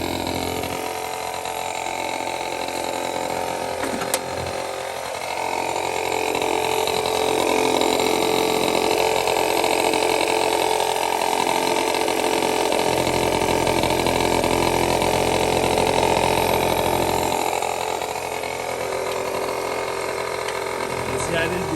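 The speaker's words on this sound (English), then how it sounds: "I'm gonna hook up the regular gas line and see if it crank right back up." A 49cc scooter engine idles steadily after a long restoration, a loud, close, continuous putter that dips briefly and rises again, with a low rhythmic pulsing throughout.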